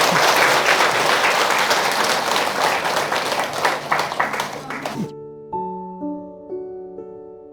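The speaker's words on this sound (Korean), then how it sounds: "박수 한번 보내주세요" An audience breaks into loud, full applause that fills the room for about five seconds, then cuts off abruptly as sustained musical tones take over.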